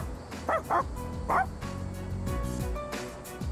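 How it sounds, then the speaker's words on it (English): A dog barks in the video game Persona 3 Reload: a few sharp yips and bow-wows in a short burst, heard near and clear over game music. "Koromaru's trying to reason with the stray dog."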